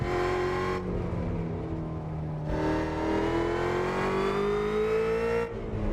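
A car engine in the Assetto Corsa/BeamNG racing game revs loudly and steadily, its pitch climbing through the gears with brief dips at shifts, a continuous close synthetic drone with nobody speaking.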